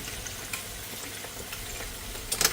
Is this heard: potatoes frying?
yes